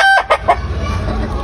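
A rooster crows loudly and close by, a shrill drawn-out call broken into a few bursts, then hen-like clucking and low background noise.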